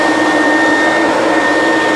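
A vacuum cleaner fitted with a hard floor tool sucks up spilled flour or powdered sugar, a loud, steady, close roar with a faint whine running unbroken throughout.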